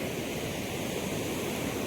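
Waves at a beach with murky, muddy water, a steady broadband wash of surf that stays even and moderately soft throughout, with no voices.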